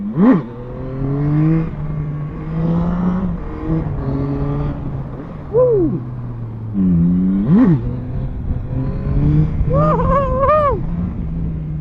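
A 2024 Yamaha MT-09 motorcycle engine revs repeatedly, rising and falling in pitch with sharp throttle blips and a steady idle between, close and loud.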